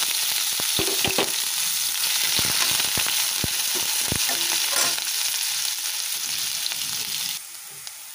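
Ginger, garlic and green chillies sizzle and fry in a pan, a dense steady crackle broken by sharp spatula scrapes and taps, close and loud, easing slightly near the end with no speech.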